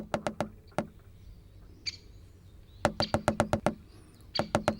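Woodpecker drumming in quick bursts of sharp knocks, several rapid series separated by short pauses, fairly close and loud over a quiet background with a faint bird call.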